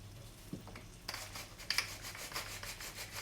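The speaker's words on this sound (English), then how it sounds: "Just a good grinding of salt and pepper" A hand grinder cracking salt and pepper gives a short run of close, dry scraping rasps that start in small bursts and then keep going as rhythmic grinding for about two seconds.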